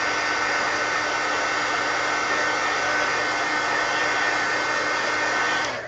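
Hair dryer blowing steadily to dry wet paint on an art journal page, a loud constant whirring hum with no breaks, close to the microphone and alone.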